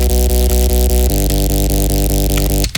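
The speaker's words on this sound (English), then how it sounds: "That kind of buzzing sound you can get really simply. You just have a saw wave, then noise, just a tiny bit of noise" Buzzy synth bass built from a sawtooth wave with a small amount of added noise, playing a loud, steady, sustained line with pitch steps and a rhythmic pulse, alone without any voices.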